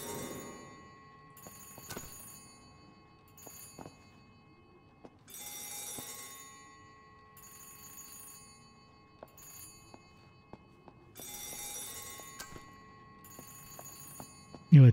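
A telephone rings in the video game Saturnalia, with repeated electronic trilling bursts in a steady pattern, clear and moderately loud over a quiet background, broken by brief clicks and a louder knock near the end.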